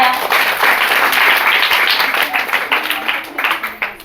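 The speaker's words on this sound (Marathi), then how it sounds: "या दिशासाठी जोरदार टाळ्या." Enthusiastic clapping from students at a village school program, a dense burst of many hands that swells and then tapers into scattered claps, with voices mixed in.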